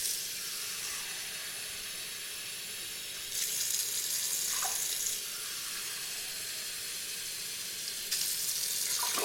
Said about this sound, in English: Then I'm going to add 2 cups of water.